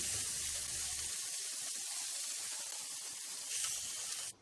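Bacon cheeseburger patties sizzle steadily on a hot grill, a continuous bright hiss with crackling, swelling briefly louder near the end before stopping.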